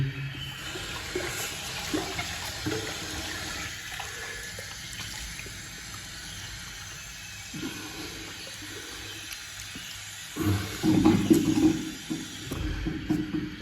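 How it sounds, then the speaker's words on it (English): Cold tap water runs steadily into a bathroom sink as it is rinsed after wet shaving with a safety razor. The flow is a constant hiss, with louder splashing and spattering bursts near the end. "I just want to rinse the sink."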